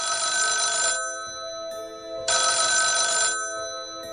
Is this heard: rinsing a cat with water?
no